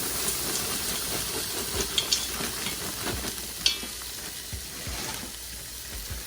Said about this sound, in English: We are going to add in our bag of potatoes.